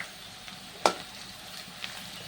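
Garlic paste hitting oil with already fried onions gives a soft, low sizzle, with one sharp crackling burst partway through and a smaller pop near the end, no voices.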